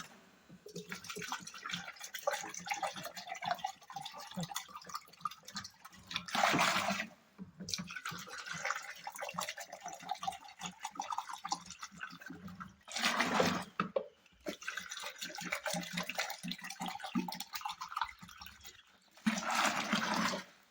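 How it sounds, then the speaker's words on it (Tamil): Water poured into cow urine in a container for mixing, a splashing, gurgling stream broken by brief pauses, heard up close. "கோமியம் 5 லிட்ரு, நம்ம வந்து தண்ணி 5 லிட்ரு ஊற்றி நல்லா இது வந்து கலக்கி விட்டுக்கணும்"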